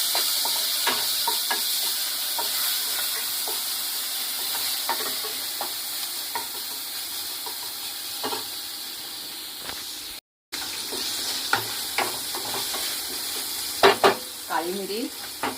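Ginger garlic paste fries in hot oil in a kadhai, a steady close sizzle broken by repeated stirring scrapes and clinks, with a brief dropout partway through.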